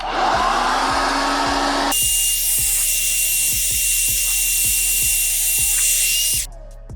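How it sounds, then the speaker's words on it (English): A heat gun warms the adhesive behind a car emblem, its steady blowing whir running alongside an evenly spaced ticking before cutting off near the end. "just pick up the heating gun and give it another dose"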